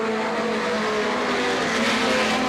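A stock car spins out in turn three at Star Speedway during a 1991 race, heard as a continuous, distant engine roar mixed with broad track noise and a faint tire squeal, with no voices.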